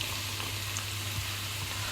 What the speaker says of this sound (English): And then I'm going to add my onion to it.